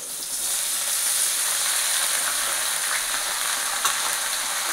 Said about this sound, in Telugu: ఉల్లిపాయలు ఫ్రై అయిపోయాయి. ఇప్పుడు చిక్కుడుకాయలు వేసుకున్నాం.